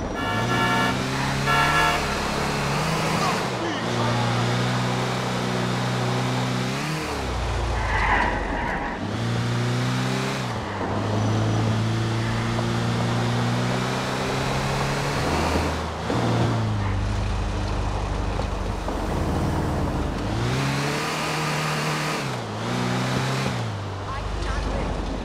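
Car engine revving and roaring during driving in Grand Theft Auto IV, loud and continuous with repeated rising and falling revs through gear shifts, with music and voices running underneath.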